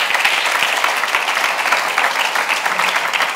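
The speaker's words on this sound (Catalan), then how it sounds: "Un aplaudiment pel Jordi." A conference audience applauds a speaker at a Barcelona future-of-work talk, steady dense clapping filling the room at close range for the whole stretch, with no voices on top.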